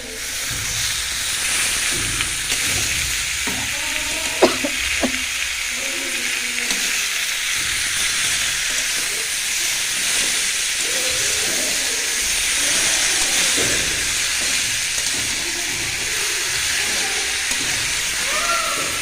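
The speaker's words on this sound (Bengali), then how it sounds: "তোমার মরিচ পেঁয়াজটা ভাজা হয়ে গেছে, এখন আমি শাপলাটা দিয়ে দিব" Water lily stems are added to fried chili and onion in a pan. They give a steady, loud sizzle and hiss with occasional stirring knocks and scrapes, and a voice talks faintly underneath.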